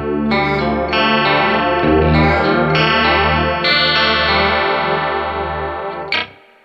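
A heavily chorused guitar played through an EarthQuaker Devices Rainbow Machine pedal, with shimmering, warbling sustained chords and a slightly distorted edge, loud and alone before the notes fade and stop.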